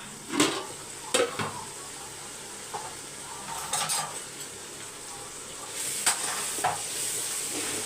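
Chicken frying in a pan with a continuous sizzle, while a utensil stirs and scrapes against the metal in a few irregular clanks and rubs, close and fairly soft.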